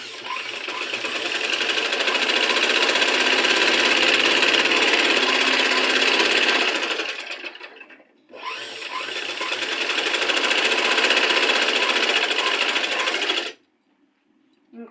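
A sewing machine stitches the side joints of a blouse in two long, loud, steady runs, pausing briefly in between before stopping.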